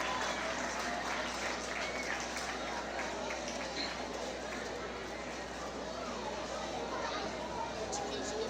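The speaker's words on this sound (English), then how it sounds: "Everyone, please give Miss Rosie a round of applause" A crowd of guests, teachers and students at a school Flag Day program applauds Miss Rosie, a dense, steady wash of clapping mixed with murmuring voices that carries on evenly throughout.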